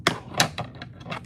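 Scissors snipping through yarn while crocheting a granny cloak, a quick series of five or six sharp, close clicks with short gaps between them.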